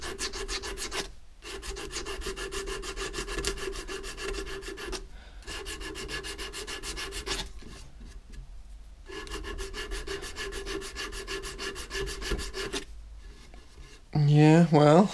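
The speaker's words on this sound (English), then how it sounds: "this episode, I believe, is going to be me sanding wood" Old 80-grit sandpaper scrubs an antique oak dining table in repeated back-and-forth strokes, a close, raspy rubbing broken by short pauses, followed by brief speech at the end.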